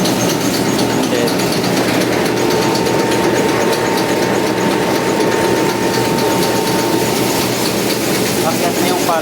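A Shin Nong rice mill driven by a 1 horsepower electric motor runs loudly and close up, with a dense continuous mechanical rattle and a steady whine that hold throughout without letting up.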